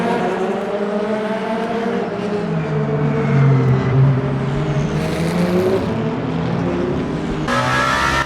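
Race car in the Le Mans Ultimate sim game powering out of a corner: a loud, steady engine whine climbing in pitch, with a brief shift near the end, no talking.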